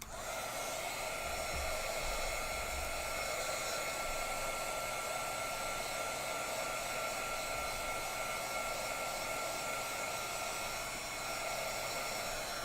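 A hair dryer blows heat onto the back of a wet stitching project. Its steady, loud whirring hum runs unbroken throughout, with no voices.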